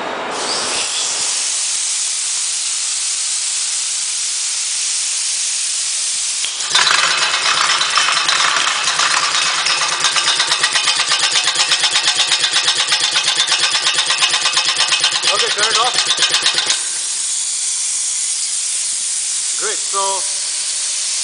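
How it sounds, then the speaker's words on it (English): Compressed air driving a pneumatic-spring actuator in a lab demonstration: a loud, steady hiss of rushing air that grows harsher and more rattling through the middle section, then falls back to a smooth hiss. "can you turn off the compressed air?"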